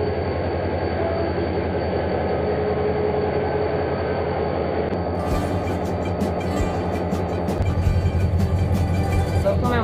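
A Karachi Circular Railway DMU train, unit 4712, rumbles with a steady engine drone and rolling noise, growing busier partway through with rattling and clanking, loud and continuous.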